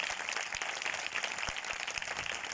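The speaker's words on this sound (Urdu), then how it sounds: "آئیے ایک بار ہم خداوند یسوع مسیح کے جلال کے لیے بڑی تالیاں بجائیں" A church congregation claps together in a steady, dense patter of applause, soft and somewhat distant.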